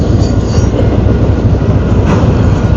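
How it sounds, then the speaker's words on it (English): A train passes close by, its loud, steady broadband rumble and wheel clatter filling the whole stretch without a break, with no voice audible over it. "Boy, I hope you can hear me over this train."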